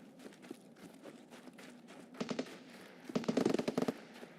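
Distant AK rifle fire rings out in the woods map of the shooter game Escape from Tarkov, heard as two quick bursts of sharp cracks, the second longer and louder, over quiet background.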